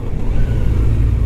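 A stock Kawasaki Z900 motorcycle engine revs close by with a loud, steady, low droning rumble like a vacuum cleaner, little change in pitch.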